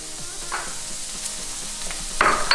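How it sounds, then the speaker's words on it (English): Venison heart sizzles steadily in a pan with garlic and butter, with a loud burst of hissing near the end as butter hits the hot metal. The sound is close and there is no talking. "I'm gonna add the butter to the pan. It's gonna smoke a bit."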